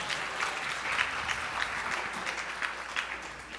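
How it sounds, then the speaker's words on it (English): Audience applause welcoming His Holiness Bhakti Mark Swami back home at a Sunday program, a steady wash of many hands clapping at moderate volume for a few seconds, without talk. "With a huge round of applause and welcome."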